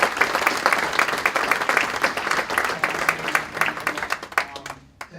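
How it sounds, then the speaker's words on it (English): Audience applause at a football club's end-of-season presentation evening, a steady wash of many hands clapping for about five seconds before fading out abruptly near the end. "So if we give him a little round of applause as well."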